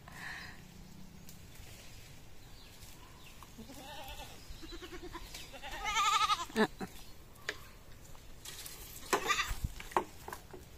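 A goat on a free-range island farm bleats several times while eating star apple, the calls rising in the middle and near the end, with a few snorts and some faint speech in the background.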